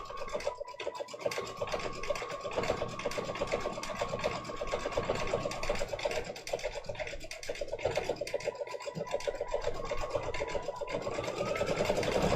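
An embroidery machine stitches a quilted shell design, a fast steady buzzing rattle of needle strikes at close range that carries on for the whole stretch with brief dips.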